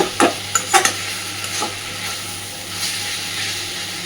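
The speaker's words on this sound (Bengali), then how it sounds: "এইবার গ্যাসের ফ্লেমটাকে একদম কমিয়ে দিয়ে আরও মিনিট তিন চারে এইভাবেই আস্তে আস্তে নাড়াচাড়া করে নেবে" Ridge gourd and shrimp frying on a low flame are stirred slowly, with a few sharp spatula scrapes at the start over a soft, steady sizzle and hiss.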